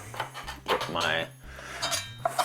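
A fork clinks and scrapes against a bowl while mixing a prawn marinade of fish sauce and soy sauce, several quick close metallic taps and stirs.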